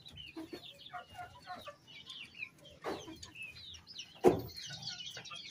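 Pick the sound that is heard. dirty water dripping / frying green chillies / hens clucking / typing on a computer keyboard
hens clucking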